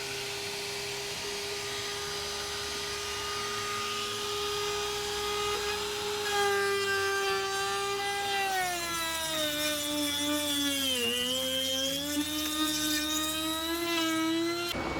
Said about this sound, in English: I was fairly pleased with how well the router actually worked around this port